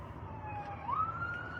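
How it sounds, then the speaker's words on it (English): An ambulance siren at a shooting incident wails in a rising and falling tone, fairly loud and continuous over low traffic rumble, with no talk. "somebody filming the ambulance from the incident"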